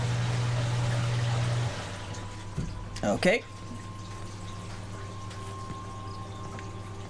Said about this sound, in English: Dog loves water. Decides to jump right in.